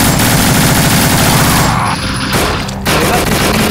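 Continuous loud automatic gunfire in No More Room in Hell, dense rapid shots that briefly thin out mid-way before resuming at full intensity, with no talking.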